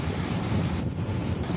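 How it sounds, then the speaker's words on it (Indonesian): Small waves churn in the wake beside a moving ship at sea, a steady rushing wash mixed with buffeting wind against the microphone, continuous and fairly loud. "Di samping kapal yang sedang melaju, terlihat ombak kecil bekas terlewatinya kapal."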